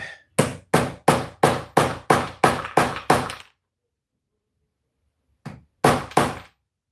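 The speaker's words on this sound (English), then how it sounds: "One more smash with the hammer." A hammer strikes hard nine times in a quick steady rhythm on screws during a vacuum repair, falls silent for a couple of seconds, then lands a few more loud close blows.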